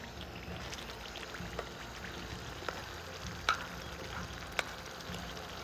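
A steady, quiet sizzle and crackle of food frying, with a few sharp pops breaking through now and then.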